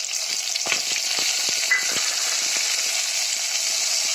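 Chopped tomato and asafoetida sautéing in hot oil in a pot, a steady close sizzle and crackle with soft spatula scrapes and stirring taps running throughout.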